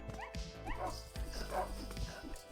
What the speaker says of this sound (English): let's see what those sacred dogs can do